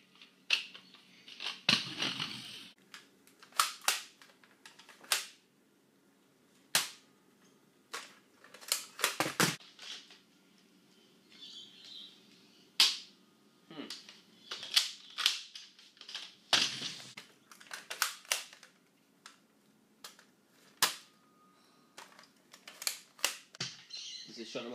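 Sharp Nerf gun trigger clicks during a game of Russian roulette, scattered one at a time with pauses between them, close and crisp against a quiet room with soft voices.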